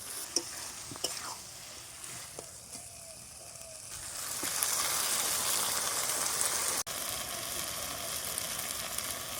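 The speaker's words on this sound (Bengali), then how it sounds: "নেড়ে চেড়ে একটু ভালো করে কষিয়ে নেব যতক্ষণ না পর্যন্ত তেল বেরিয়ে আসে" Banana flower and spice mix sizzle and fry steadily in oil in a pan while being stirred, with scraping strokes early on and the frying growing louder and denser, continuous and close with no talking.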